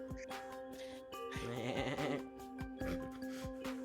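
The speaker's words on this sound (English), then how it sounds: "Aggressive sheep noises." Sheep bleating in harmonic, wavering calls, loud and close, several bleats running into each other with no talk over them.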